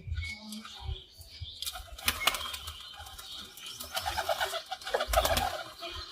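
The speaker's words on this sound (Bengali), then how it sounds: "তো গাছ দেখতে পাচ্ছ কবুতরগুলো ফ্লাইংয়ের জন্য ছাড়া হচ্ছে" Pigeons are let loose for flying training, with soft cooing, bursts of flapping wings and scattered clatter close by and no talking.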